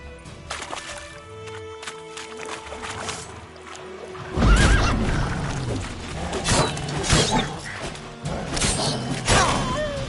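Geralt's horse Roach whinnies and snorts in The Witcher video game, with a sudden loud outburst midway followed by repeated neighs, hoof thumps and rustling, all close and without speech.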